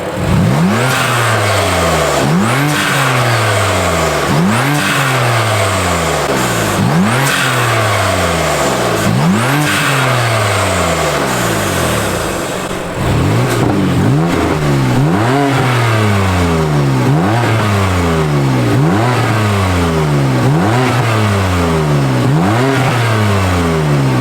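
A BMW F80 M3 fitted with ApexBuilt titanium front mount intakes revving repeatedly outside the car, loud rhythmic rises and falls of engine pitch in quick succession, with a short dip midway before the revs resume.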